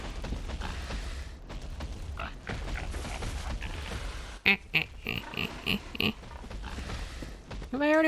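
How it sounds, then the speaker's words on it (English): Pigs squealing and grunting in the video game Bloodborne, a series of short snorting bursts among creaking and mechanical game sounds, with someone talking over parts of it. "The pigs kind of sound like they're laughing like ha ha ha ha ha ha."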